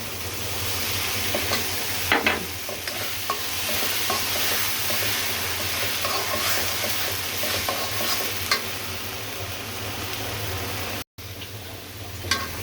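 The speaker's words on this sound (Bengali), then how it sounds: "এই নারিকেল পেস্টটা আমি এখন ঢেলে দিব।" A coconut paste ground with green chillies and onion hits a hot pan with shrimp and fried onion, giving a loud, continuous sizzle with scraping stirs throughout.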